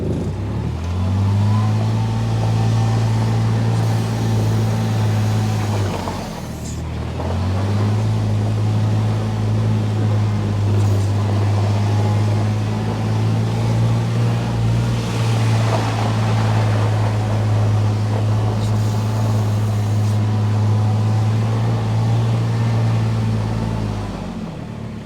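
An Easy Rider brand Kubota UTV drives along with a steady, loud engine drone and low rumble that briefly dips around six seconds, then resumes a continuous hum without any voices.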